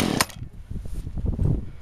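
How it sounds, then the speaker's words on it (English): A Poulan Pro chainsaw idles after a cold start, a steady buzzing engine drone with a sharp burst near the start, running alone and fairly close. "There's my Pulan Pro chainsaw."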